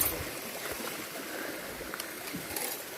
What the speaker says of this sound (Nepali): पानी त आज त आउँदै रहेछ त